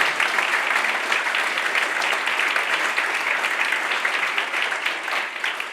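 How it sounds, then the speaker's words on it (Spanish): Sustained applause from a seated audience at the close of a colloquium talk, a dense, even wash of many hands clapping steadily for several seconds with no voices over it. "Voy a pedir primero un aplauso para Ignacia de Pano"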